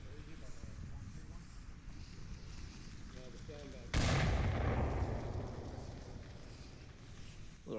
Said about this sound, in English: A couple of nades going on.